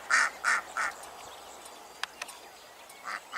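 Ducks quack three times in quick succession, close and clear, then give one more quack after a pause broken by a few faint clicks.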